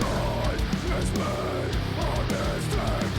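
A raw, unmixed deathcore metal excerpt plays with pounding drums and dense, distorted guitar chugs in a steady driving rhythm at moderate level.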